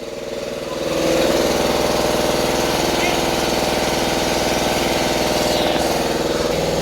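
A small engine turns over and settles into a loud, steady chugging run, its rapid rhythmic firing continuing up close after a short lower-level start, with a person speaking briefly over it.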